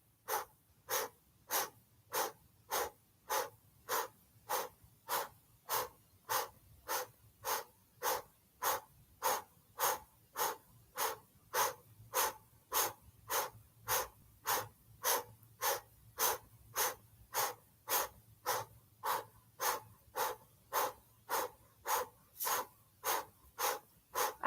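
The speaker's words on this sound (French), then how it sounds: "Et cette respiration du feu avec la bouche en haut." Breath of fire, rapid kundalini yoga breathing, done on an outdoor terrace: a fast, perfectly regular train of sharp nasal exhalations, about two per second, close and clear with nothing else over them.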